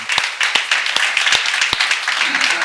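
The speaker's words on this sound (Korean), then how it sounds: "박수하세요" A church congregation at a seminar claps, with sharp, fairly rhythmic individual claps standing out over a bed of crowd noise and a voice briefly heard near the end.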